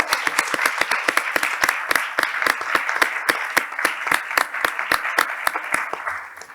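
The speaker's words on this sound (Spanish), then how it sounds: "Así que muchísimas gracias a esta mesa y un aplauso." An audience at a panel discussion applauds, a steady run of distinct claps at a fairly even rhythm that carries on for several seconds before easing off.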